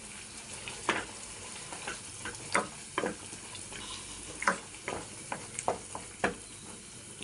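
Chili powder frying in oil for a paneer gravy: a soft, low sizzle with scattered sharp ticks and scrapes of stirring, close and fairly quiet, no voices.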